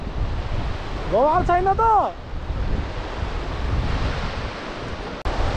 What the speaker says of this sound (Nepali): यो भनेको सेफोक्सुन्डोको नदी